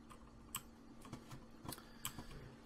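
Computer keyboard keys clicking irregularly as someone leans on the keyboard, a handful of close, quiet taps spread over a few seconds.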